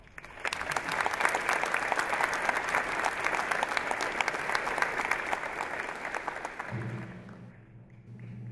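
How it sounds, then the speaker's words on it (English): Audience at a university convocation ceremony gives sustained, dense applause that swells quickly, holds steady for several seconds, then fades out as a low tone takes over near the end. "Please give Nancy a round of applause."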